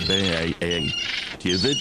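A seagull in a video game gives three loud, harsh squawks close up, the first two quick in succession and the third after a short pause.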